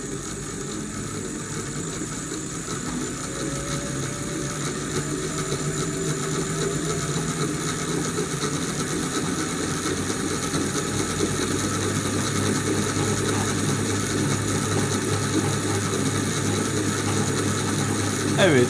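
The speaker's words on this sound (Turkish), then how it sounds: "30 voltta sürüyorum buradaki motorumu" A low-RPM alternator project with an electric motor running at 30 volts, heard as a steady, continuous hum and light mechanical whir with no change over nearly twenty seconds.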